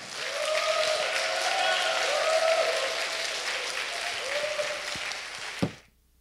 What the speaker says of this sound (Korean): 손경민 강사 목사님을 여러분의 뜨거운 환영과 사랑의 박수로 앞으로 모시겠습니다.